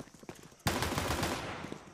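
Dual Beretta pistols fire in rapid bursts in the video game CS2, a sudden loud volley of quick shots that trails off into echoing reverb after a quieter opening.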